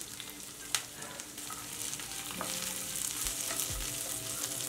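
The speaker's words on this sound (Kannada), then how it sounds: "ಈರುಳ್ಳಿ ಫ್ರೈ ಮಾಡ್ಕೊಳ್ಳೋಣ" Onion, garlic and ginger fry steadily in a pan, a continuous close sizzle with occasional stirring scrapes and a sharp clack near the start, for a bread usal snack.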